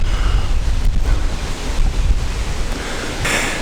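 Wind blows outdoors around a wood-fired pizza oven, a steady loud rumbling gust buffeting the microphone with low roaring noise and a brief brighter hiss near the end.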